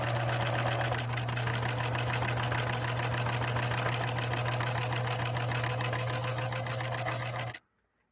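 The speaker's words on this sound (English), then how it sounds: "we're sewing with a size 18 needle" A Singer 6233 sewing machine drives a size 18 needle through thick saddle leather, running as a loud, steady, fast mechanical whir with rapid rhythmic stitching clatter for about seven seconds before cutting off abruptly.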